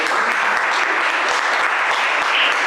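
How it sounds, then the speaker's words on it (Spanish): A room full of people at a presentation applauds, dense continuous clapping that stays loud and even throughout without a break. "Pues un aplauso para..."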